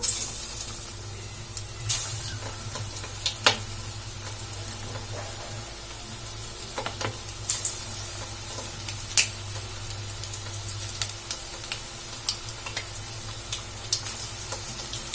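Balls of drumstick-leaf (murungai keerai) vada batter deep-fry in hot oil, giving a continuous bubbling sizzle broken by sharp crackles and pops throughout, near and without speech.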